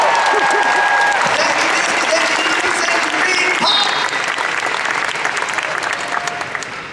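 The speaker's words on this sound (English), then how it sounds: "Let's give them a big round of applause, yeah?" An audience at a Carrie Fisher panel at Star Wars Celebration 2015 claps loudly and densely, with a few whoops, before the applause thins and fades near the end.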